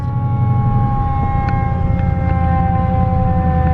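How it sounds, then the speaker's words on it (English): An ambulance siren sounds through traffic, its steady tones held over a dense rumble of engines and road noise, fairly loud and continuous throughout. "the ambulance pushing everybody to the right"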